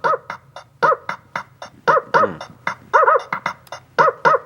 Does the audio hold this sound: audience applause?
no